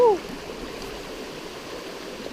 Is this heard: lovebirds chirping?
no